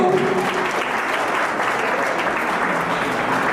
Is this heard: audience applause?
yes